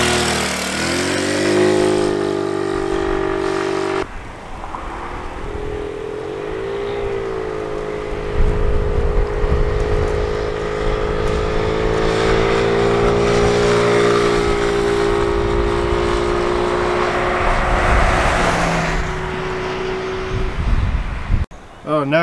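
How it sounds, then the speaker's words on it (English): A 150cc GY6 scooter engine with a performance carburetor idles steadily nearby in the rain, its low hum shifting in pitch now and then, with talk heard over it at times. "Scooter's running all right."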